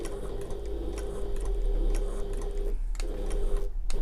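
A sewing machine stitches steadily along a marked line on a backpack project, a close, continuous motor hum with a fine ticking needle rhythm and two brief pauses near the end.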